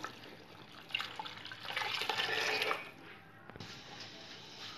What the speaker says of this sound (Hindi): अब इसमें डालेंगे तकरीबन 1 लीटर पानी।